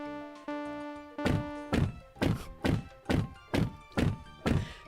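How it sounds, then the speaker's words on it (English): A desk is banged repeatedly: a string of dull, heavy thunks, about seven evenly spaced hits, close and loud, after a sustained electronic tone. "I was probably banging on my"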